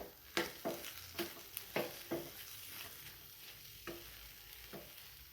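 A spatula stirs samosa potato filling with coriander in a pan, giving a series of quick scraping strokes over a low steady sizzle, close and clear, with no voices.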